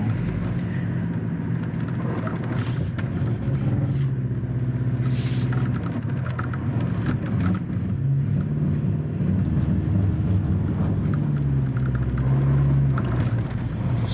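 A 2024 Toyota Tacoma Limited works off-road in 4-high, its engine a continuous low rumble that swells and eases with throttle as the truck strains over rough holes, with faint scrapes and knocks from the terrain.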